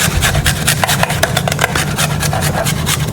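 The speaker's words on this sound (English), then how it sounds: "What I'll do is I'll grate this garlic." Garlic is grated in fast, continuous rasping strokes, loud and close, with no talking.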